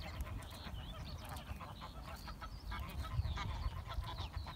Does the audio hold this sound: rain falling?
no